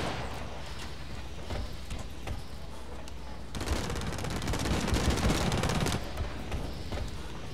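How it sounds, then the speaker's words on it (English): Dense gunfire in the online shooter Blacklight Retribution, a steady crackle of rapid shots that grows louder and heavier midway, with a voice briefly talking over the battle. "Sounds like someone's shooting at me."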